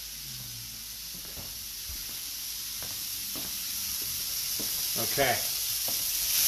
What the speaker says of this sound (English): I hear a good sizzle back there.